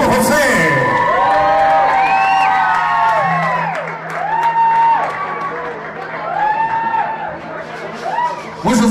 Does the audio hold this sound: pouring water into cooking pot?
no